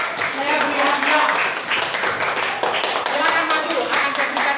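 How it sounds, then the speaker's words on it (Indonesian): Classroom clapping for a student group, a dense burst of many hands from pupils that runs steadily throughout, with voices mixed in underneath. "Tepuk tangan."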